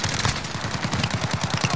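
Rapid sustained bursts from a light machine gun in a PS4 shooter, a fast even rattle of shots at close range, loud and continuous with no talk over it.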